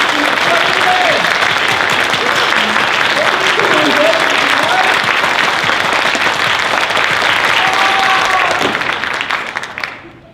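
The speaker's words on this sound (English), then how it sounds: "If you guys clap hard enough, Hansel will live." Sustained, loud applause from a theatre audience at a live stage show of the Brothers Grimm Spectaculathon, dense clapping running for about ten seconds before fading out at the end.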